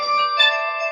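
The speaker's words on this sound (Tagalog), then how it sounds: "Agun-una ti cellphone ko." A cellphone ringtone plays a steady, bright electronic melody of sustained tones, close and clear, with no voices over it.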